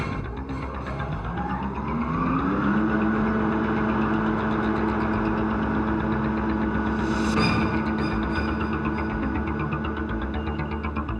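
The engine of an O&K RH200 giant hydraulic mining excavator runs with a loud, steady, deep drone and throbbing hum, rising slightly in pitch early on and holding constant throughout.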